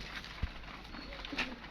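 A pigeon coos softly nearby in a pigeon keeper's loft, its low calls faint and soft, with a single dull thump early on.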